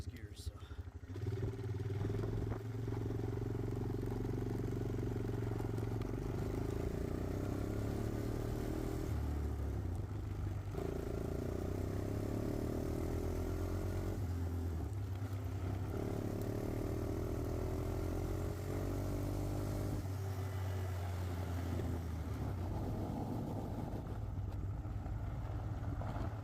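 A Honda Recon ATV engine with electric shift faults runs steadily nearby, its hum shifting pitch several times as gears are tested, with a voice heard over it.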